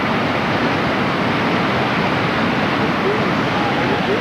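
White water rapids roar in a loud, unbroken rush as rafts cross big waves, close and steady throughout, with a voice faintly beneath the noise.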